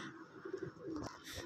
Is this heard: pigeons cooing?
yes